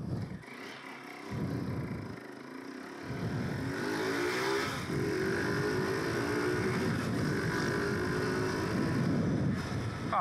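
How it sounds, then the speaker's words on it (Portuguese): A modified, performance-tuned motorcycle engine runs loud and close during a test ride, with the pitch climbing and falling through revs against steady wind noise across the microphone. "vamos testar a motinha aí agora"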